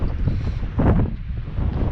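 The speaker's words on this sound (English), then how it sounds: "It is really windy." Strong wind gusting and roaring across the microphone on a homestead, a heavy rumbling buffet that swells and dips without pause.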